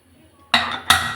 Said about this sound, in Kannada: ಈಗ ಕುಕ್ಕರ್ ಲಿಡ್ನ ಕ್ಲೋಸ್ ಮಾಡ್ತಾ ಇದ್ದೀನಿ